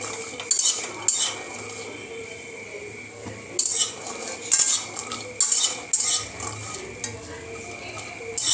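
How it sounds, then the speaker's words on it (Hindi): A metal spoon stirs cashews roasting in butter in a pan, scraping and clinking in repeated bursts with a faint sizzle underneath, close and fairly loud. "तो आपको चम्मच कंटिन्यू चलाना होगा क्योंकि काजू कुछ सारे साइड से फ्राई होना है।"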